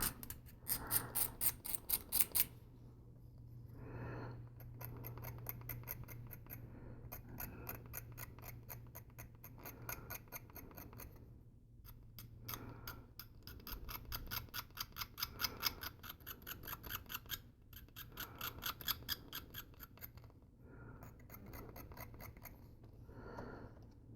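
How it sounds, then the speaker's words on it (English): A blade scrapes along a mold line on a resin figure in short, intermittent bursts of thin, clicking scratches separated by quiet gaps, close and faint over a low steady hum. "I'm gonna see if I can scrape that down a little bit."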